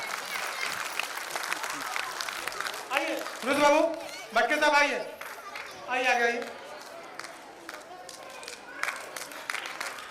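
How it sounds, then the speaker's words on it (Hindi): Audience applause welcoming guests at a community association annual meeting, continuous clapping from a crowd running underneath someone speaking loudly over it. "मनोज जी के लिए एक बार जोरदार तालियां"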